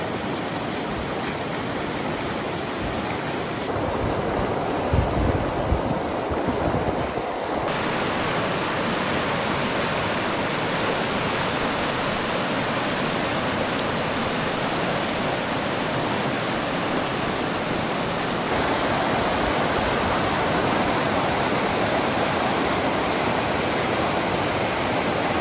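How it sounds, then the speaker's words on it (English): The steady, full rush of Needle Creek flowing nearby in Colorado's Chicago Basin, constant and unbroken with no voices. "now I can just enjoy the river a little bit"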